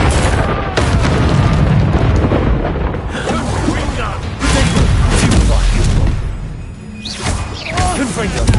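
Explosive spell blasts, Bombarda and Confringo, in the Hogwarts Legacy video game, a loud continuous barrage of booms and bursts with dense rumbling layered over battle noise and voices.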